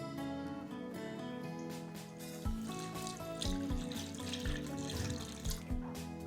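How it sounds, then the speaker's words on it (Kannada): Water trickling and pouring steadily into flour in a bowl while mixing dough for sweet balls, a soft continuous stream with a few light splashes and no voices. "ಸಪ್ಪನ ನೀರು ಹಾಕಿ ಕಲಿಸ್ಕೊಳ್ತಾ ಇದ್ದಾನೆ"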